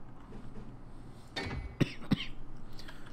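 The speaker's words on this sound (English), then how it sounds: "I don't know why I'm coughing so much all of a sudden." Two short, sharp coughs about a third of a second apart, moderately close, over a low background hum with a brief rustle just before.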